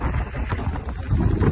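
Strong wind buffets the microphone near Pamban bridge on the coast by Rameshwaram, a loud continuous low roar and rumble that grows stronger toward the end, with no voices.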